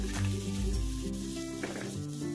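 Semolina (semei) fries in a pan with turmeric and salt, giving a steady soft sizzle under a tonal background hum, with no talking.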